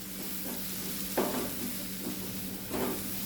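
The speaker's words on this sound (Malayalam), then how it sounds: "2 ടേബിൾ സ്പൂൺ മുളക് പൊടിയും കൂടി ഇട്ട് ഒന്ന് ഇളക്കി കൊടുക്കാം" Chili powder stirred into a frying rose apple pickle mixture in a pan: a steady sizzle with a few scraping spoon strokes, two of them more pronounced, and no talking.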